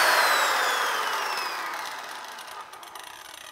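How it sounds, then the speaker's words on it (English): A biscuit joiner's small circular blade plunges into wood with a loud, high whine that gradually winds down and fades. "So it's like a tiny circular saw blade just cutting in there."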